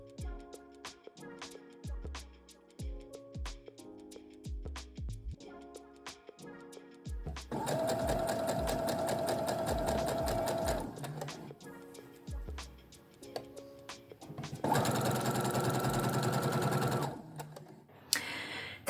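A sewing machine with a walking foot stitches through velvet, giving rapid mechanical chattering bursts between quieter pauses and clicks, close and loud.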